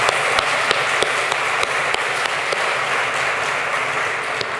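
Audience applause at an outdoor community block party celebrating community and diversity, a steady dense wash of many hands clapping with a few sharper individual claps, sustained and fairly loud throughout.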